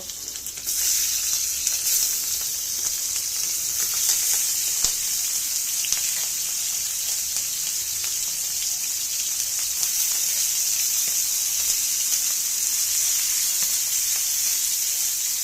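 Turmeric-coated broiler chicken pieces fry in a pan of hot oil, giving a loud, steady sizzle that starts abruptly as the meat goes in and holds throughout, with occasional crackles.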